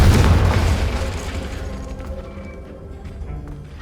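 Confringo blasting spell explosion in Hogwarts Legacy: a single loud, deep boom that bursts out at once and then rolls off into a long fading rumble with faint debris crackle, no voices present.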